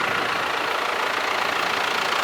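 A John Deere 6115R tractor engine runs steadily at close range, a continuous rough broadband rumble with no voices over it.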